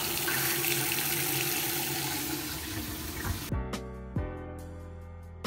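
Hot water gushes steadily from a newly installed kitchen faucet into the sink, a continuous broadband rush that cuts off abruptly, followed by a few drips and small clunks of the handle.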